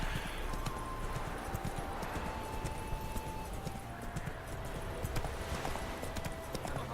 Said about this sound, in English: Whoa there, Roach. Something going on here. Not so fast, Roach